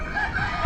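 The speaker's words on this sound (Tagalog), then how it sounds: "Ibon." A short, loud bird call, a sustained rooster-like crow heard up close with no voices.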